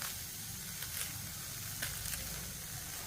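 Steady sizzling of food frying in a hot pan, a continuous crackling hiss with a few brief louder pops, close and moderately quiet.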